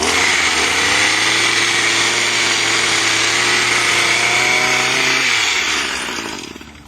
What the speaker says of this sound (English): So at a very low RPM, I can just go in.